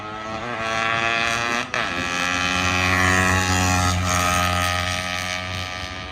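Fully restored Yamaha RX two-stroke motorcycle engine with porting and reed valve work, running steadily up close with a loud, buzzing harmonic drone that dips briefly and then holds a strong idle-to-rev tone.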